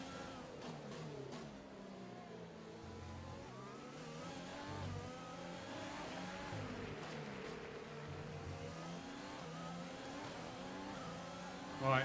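Engine of a Formula 1 car in the F1 2020 racing game drones and revs through rising and falling gear shifts at a moderate, fairly faint level, steady throughout the lap.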